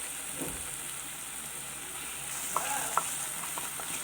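Soft, steady sizzle of chicken tikka masala frying in oil, with a few light stirring clicks and scrapes from a spoon in the pan.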